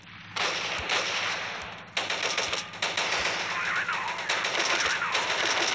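Rapid automatic gunfire in the video game Rival Fire, a loud, dense stream of shots going on with little pause, with no talking.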